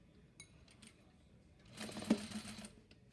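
Sewing machine stitching lining fabric across a seam on a gusset panel: a short burst of steady mechanical whirring that rises, peaks and stops, with a few faint clicks before it, quiet and close with no talk.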